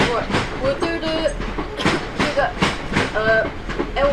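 Trains pass near an outdoor spot, giving a steady rumble with rhythmic clickety-clack of wheels on rails and faint metallic tones, continuous and fairly loud throughout.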